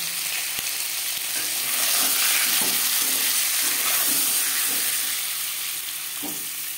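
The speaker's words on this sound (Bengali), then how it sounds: "ডিম ভাজতে ভাজতে ডিমের কারি বা এগ কারির জন্য একটা মশলা আমি তৈরি করে নেব" Eggs frying in a pan with salt and turmeric for an egg curry, a steady close sizzle with soft stirring scrapes and a few sharp clicks, no voices.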